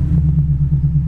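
A 1982 Oldsmobile Cutlass engine idles a little fast, a steady low rumble with faint rhythmic throbbing, close and continuous, with no talking.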